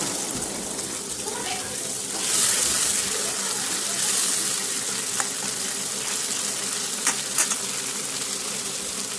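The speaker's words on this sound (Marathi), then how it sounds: "थोडं थोडं पाणी टाकू." Water splashed into a pan of eggplant curry frying in masala and oil sets off a louder surge of sizzling near the start, then a steady crackling fry with a few sharp pops.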